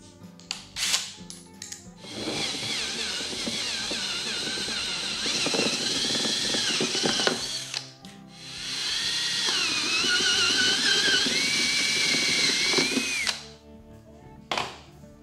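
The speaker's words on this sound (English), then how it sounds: "So we'll go ahead and drill a hole in there." A power drill whines in two long bursts as a step bit bores through an ammo box, with short clicks and pauses between, close and loud.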